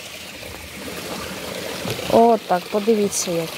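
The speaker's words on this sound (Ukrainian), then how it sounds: "Прямо водоспади." Waterfalls flowing outdoors, a steady rushing wash of water running throughout, with a person talking over the second half.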